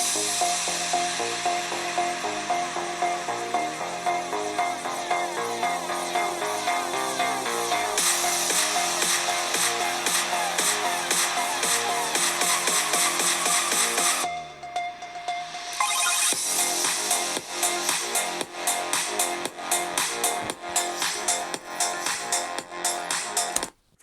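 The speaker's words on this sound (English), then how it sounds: "This is a speaker test of the Lenovo Yoga 7i Pro X." Music played through the built-in speakers of a Lenovo Yoga Slim 7i Pro X 14-inch laptop at 80% volume, a dense rhythmic track with sharp percussive hits that drops briefly before resuming, heard alone without talk.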